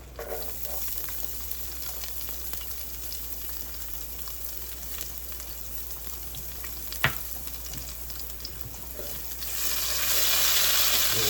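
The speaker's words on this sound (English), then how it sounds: "So now we'll go ahead and throw our garlic in there" Garlic sizzles softly in a pan for a salmon pasta, a faint steady frying hiss with a brief sharp knock midway, then a louder burst of sizzle near the end.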